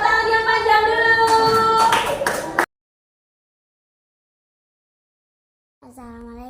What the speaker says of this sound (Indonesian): Tepuk tangan yang panjang dulu